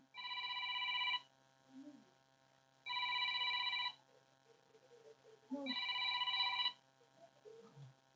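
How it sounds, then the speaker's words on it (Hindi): A telephone rings with three long electronic bursts, each about a second apart, fairly loud and steady, while a voice murmurs faintly in the gaps between rings. "फोन आ रहा है।"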